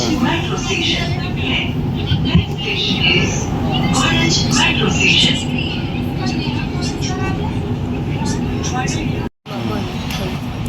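Ahmedabad Metro train running, a continuous rumbling ride noise heard from inside the carriage, with people talking over it throughout and a brief dropout near the end.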